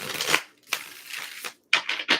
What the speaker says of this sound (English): One more shuffle for Aries.